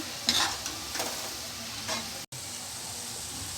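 Garlic cloves frying in oil for a postpartum herbal legiyam, a close continuous sizzle with crackling pops, broken by one instant dropout.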